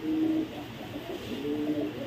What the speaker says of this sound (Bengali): রেড চেকার রেসার কবুতর।